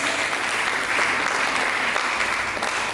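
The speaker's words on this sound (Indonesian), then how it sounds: "Mari kita berikan tepuk tangan bagi Yesus" Sustained applause from a church congregation, dense and even clapping throughout, fairly loud and continuous.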